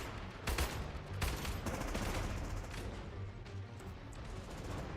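Dense battlefield gunfire from the real-time strategy game Iron Harvest rattles in overlapping bursts, with sharp close shots and a constant roar of distant firing and no voices.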